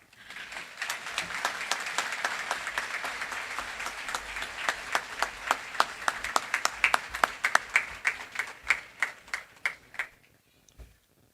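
Audience applause at a high school graduation ceremony, a dense wash of many hands clapping that thins out into scattered individual claps before fading to quiet.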